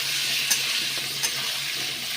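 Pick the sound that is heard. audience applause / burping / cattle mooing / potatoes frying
potatoes frying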